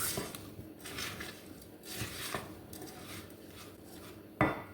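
Strawberries with sugar are stirred in a bowl with a utensil, giving repeated soft scraping and clinking strokes in a steady rhythm. One sharper clink comes near the end.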